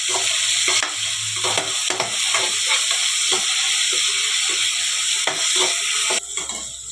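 Salted onions sauté in a frying pan with a continuous hissing sizzle, while a utensil stirs and scrapes the pan in irregular taps close by.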